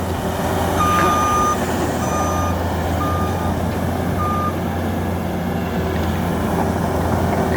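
A New Holland two-speed skid steer runs with a steady low engine drone while its reversing alarm beeps in a slow, evenly spaced series of four tones; no one talks.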